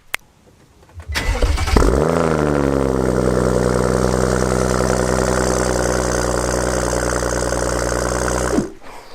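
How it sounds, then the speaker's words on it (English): A car engine cold-starts after a short cranking burst, revving sharply then settling into a loud, steady, close idle that holds for several seconds before the sound cuts off. "I filmed a little cold start this morning"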